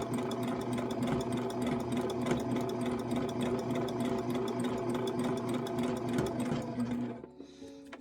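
A sewing machine stitches a lotus flower quilt block in one long, steady, rapid run of needle strokes and motor hum, close and loud, stopping abruptly near the end.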